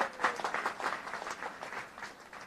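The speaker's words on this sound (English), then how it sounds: "A big round of applause." A round of applause from a small group gathered in a sukkah for Sukkot, fairly quiet, with loose uneven clapping that thins slightly toward the end.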